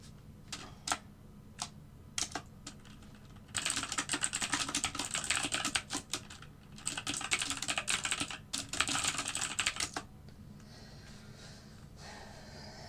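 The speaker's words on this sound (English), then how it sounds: "I've never had a quiet keyboard." Rapid computer keyboard typing in clattering bursts with brief pauses and a few isolated keystrokes, close but fairly quiet, over a low steady hum, with no voices.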